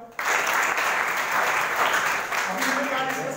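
Students at a school gathering break into a burst of loud, dense clapping that starts abruptly and carries on steadily for a few seconds.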